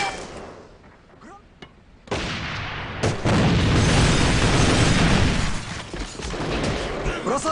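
A grenade goes off in the shooter game AVA as a heavy, loud blast that swells into a sustained roar of rumbling noise, after a quieter stretch with faint game sounds.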